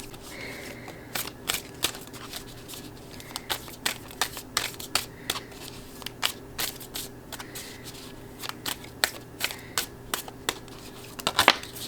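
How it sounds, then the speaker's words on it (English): Tarot cards being shuffled by hand at close range, a steady run of quick crisp riffling snaps and flutters over a faint room hum, with no talking. "I tilted y'all down so I can show y'all me shuffling"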